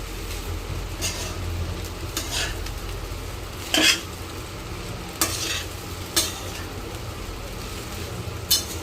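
Vaghareli khichdi is stirred in a hot pan. A spoon scrapes and clanks against the metal in several sharp strokes over a continuous low sizzle, with no talk.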